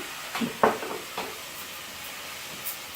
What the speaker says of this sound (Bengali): মশলাটাকে পেঁয়াজ আর রসুনটাকে একটু ভাজবো